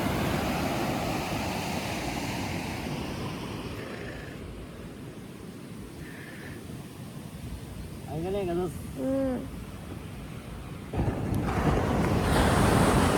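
Ocean waves wash continuously with wind buffeting the microphone, a brief spoken phrase partway through, then a louder surge of surf at the end.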